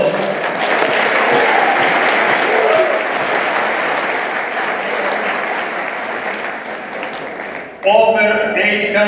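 Guests at a fundraising dinner for a new nursing home give loud, sustained applause that fills a large hall for nearly eight seconds, then a voice over a PA system comes in as the clapping ends.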